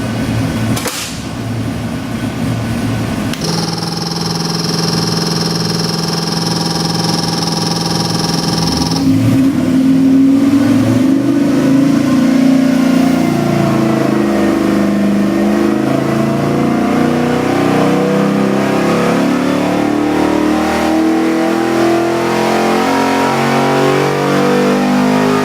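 LS7 441ci crate engine running on a dyno, a loud steady idle that climbs into a long sustained rev with rising pitch, roaring continuously close up for the rest of the run.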